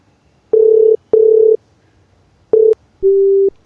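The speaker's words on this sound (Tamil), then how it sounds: "என்ன சித்து இப்போ ஃபோன் பண்ணால் கட் பண்ணுறாப்புல" Telephone tones as a call is cut off: three loud, steady electronic beeps of varying length, then a single lower tone, close and clean with no talking.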